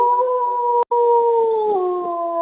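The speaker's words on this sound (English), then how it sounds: "coolest sound on the face of the earth, listening to these guys howl." Several wolves howl together in a close, sustained chorus of long, sliding tones, with one brief break partway before the voices resume and glide downward.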